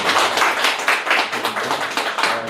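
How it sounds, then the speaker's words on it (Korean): A short burst of applause at a book launch event, many hands clapping briskly and close, uneven and lively for a couple of seconds with no voices. "박수 한 번만 부탁드립니다."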